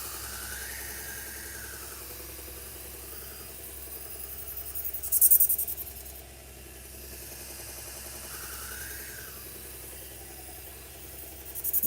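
Leather belt stropping a sword edge on a powered machine to take off the burr, a steady mid-pitched motor hum and rattle running throughout with a brief louder swell midway, no talk.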